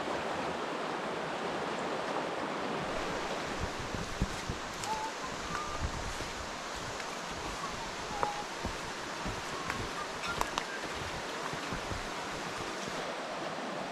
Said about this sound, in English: this is the creek we're going to be looking for hellbenders in